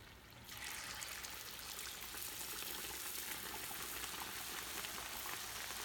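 Quesadillas frying in a pan at home, a steady loud broadband sizzle that swells in after a quiet first half-second and holds evenly, close and continuous with no talking.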